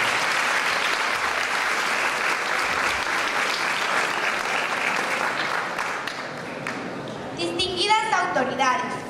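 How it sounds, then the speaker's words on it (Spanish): Audience applause for a participant at a school oratory contest, a steady dense clapping from a crowd that fills most of the clip, tapering near the end as a voice begins speaking. "Un fuerte aplauso para Alejandra Mariel."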